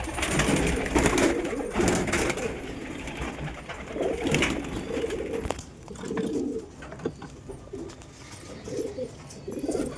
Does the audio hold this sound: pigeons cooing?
yes